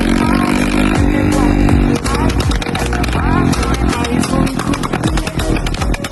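A 2024 motorcycle fitted with a Silver Star exhaust and a tuned ECU runs close by with a loud, rough rumble and clattering blips of throttle, while voices talk over it.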